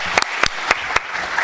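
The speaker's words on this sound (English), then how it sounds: "I would like to request a round of applause for our panelists here today." A conference audience at an air navigation industry panel on cyber threats applauds the panelists, with a short burst of scattered hand claps in a few distinct peaks.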